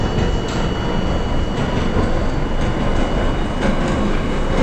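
NYC subway A train pulling out of a station in the OpenBVE simulator game, a steady loud broadband rumble with faint rhythmic clicks, continuous throughout with no talking.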